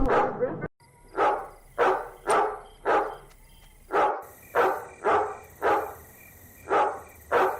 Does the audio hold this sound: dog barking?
yes